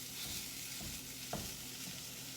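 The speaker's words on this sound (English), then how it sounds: "You just get to listen to that sizzle right there." A breakfast casserole mixture sizzles steadily in a hot pan, a dense continuous hiss with a few soft scraping stirs and one sharper clink, close and moderately loud with no voices.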